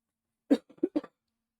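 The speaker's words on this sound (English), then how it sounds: "I'm desperately trying not to cough, but this cough is not going away." A single person coughs close by in a short burst of three or four quick coughs, with silence before and after.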